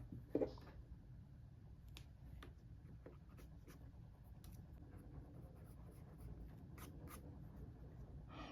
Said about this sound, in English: then I use that to draw the eye